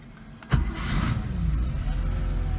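A Porsche 911 engine cranks and starts, then settles into a steady, low, mellow idle nearby.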